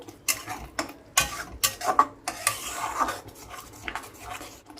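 A utensil scrapes and stirs pointed gourd mash in a pan over a high gas flame, making close, repeated rasping scrapes in bursts of irregular rhythm.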